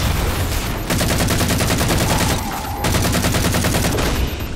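Sustained rapid assault rifle fire in Halo Spartan Ops, loud and dense, in two long bursts separated by a brief pause, with no voices.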